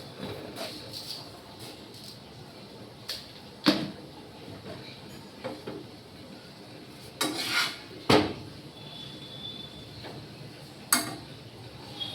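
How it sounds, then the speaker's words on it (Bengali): A spoon adding sugar to tea, with scattered clinks and taps of metal against a cup or pot, some sharp and close, between quieter stretches of kitchen background. "আমি এখানে চায়ের চিনি দিয়ে দিচ্ছি, চিনিটা।"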